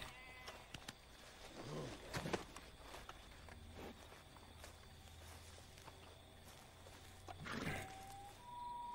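Faint sheep bleats in the video game Red Dead Redemption 2 sound a few times at a distance, with footsteps and soft rustling in between.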